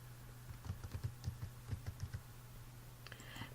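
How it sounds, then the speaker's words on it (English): A password typed on a computer keyboard, a quick, quiet series of about a dozen soft key clicks over a low steady hum, then a few fainter taps near the end. "Type again to verify the password."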